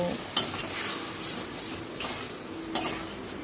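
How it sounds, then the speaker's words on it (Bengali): Taro curry stir-fried in a kadai wok after a splash of water, with a steady wet sizzle and scraping. Two sharp utensil clacks against the pan stand out near the start and near the end. "জলটা দিয়ে আবারও সব কিছু ভালো করে কষিয়ে নেব।"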